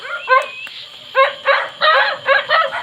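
Dogs bark at a rural family home in a quick series of sharp, fairly close yelps, with several barks in bursts and short pauses between them.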